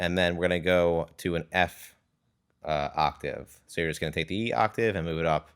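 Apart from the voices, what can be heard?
No distinct noise like a dog, phone or traffic.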